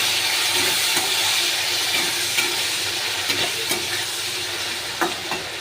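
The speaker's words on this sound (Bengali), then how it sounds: "এবার আমি ওই তেলেই ফোড়নগুলো একসাথে দিয়ে দেব, আলুটাও দিয়ে দেবো, দিয়ে ভালো করে ভেজে নেব।" Potatoes and whole spices fry in hot oil with a loud, dense sizzle and hiss, punctuated by scattered scrapes and taps of a stirring spoon, close up and without voices.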